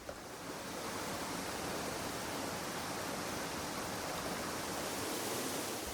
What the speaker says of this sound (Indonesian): Kami pun singgah istirahat sambil menikmati indahnya air terjun dengan